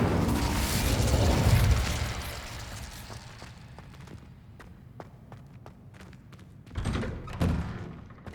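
A fiery Incendio spell bursts out in Hogwarts Legacy with a loud whooshing roar, then settles into a string of sharp thuds and clicks before a second heavy burst near the end.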